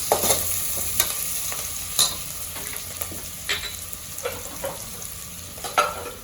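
Onions sauté in a pan for tomato rice, a steady sizzle broken by repeated scraping stirs and clinks of a spoon against the pan, close and alone.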